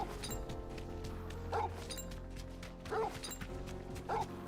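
A dog barks in the video game Final Fantasy XVI, three short, loud barks spaced about every one and a half seconds over a steady game music and ambience bed.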